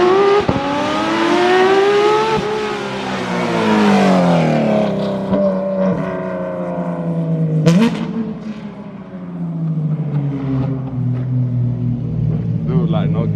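Loud straight-piped Porsche 911 GT3 RS exhaust revving with rising and falling pitch sweeps, rumbling exhaust roaring past, while people talk over it.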